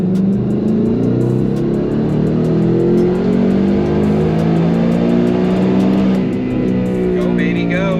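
A supercharged car engine fitted with a VMP Loki Level 1 kit roars at full throttle on a dyno in sixth gear, a loud, steady climbing drone that holds for the whole stretch, with voices briefly heard near the end.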